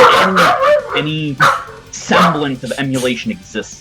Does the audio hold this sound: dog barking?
yes